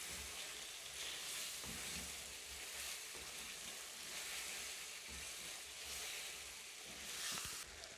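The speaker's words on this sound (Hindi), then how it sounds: "इसमें हम 2 बड़े चम्मच जो है ऑयल के डालेंगे और इसको अच्छी तरह से हिला लें" Mutton frying in oil in a pan while being stirred, giving a loud, steady, close sizzle and hiss with occasional scraping stir sounds, with no voices.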